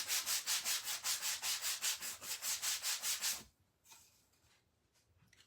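Hand sanding a wooden spindle flag sign kit with a block sander, steady rhythmic back-and-forth rasping strokes, about fifteen in quick succession, close and clear, then stopping into quiet.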